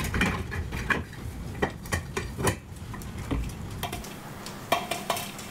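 Parts of a dirt-filled Donaldson snorkel pre-cleaner being pulled apart, heard as a close, irregular run of sharp clicks, knocks and rattles over low handling noise, with no talking.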